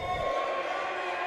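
Hockey crowd at a Motor City Rockers vs. Blue Ridge Bobcats game, roused by the team captain: a dense, steady roar of cheering fills the whole brief moment, with a faint tonal hum beneath it.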